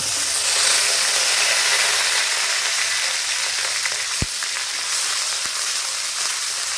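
Mustard paste hitting hot oil in a pan sizzles loudly in a dense, steady hiss that eases a little over several seconds, with a couple of sharp clicks near the end.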